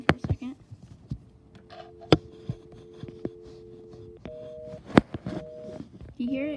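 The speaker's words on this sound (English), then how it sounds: "It does the busy signal." Telephone tones from a 1980s French-style rotary phone: steady tones switching on and off in short intervals, mixed with handset clicks and thumps, fairly quiet and close.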